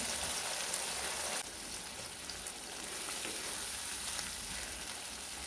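Spiced masala fries in hot oil in a pan for a Maharashtrian vegetarian thali, giving a steady close sizzle with soft crackles that drops slightly partway through.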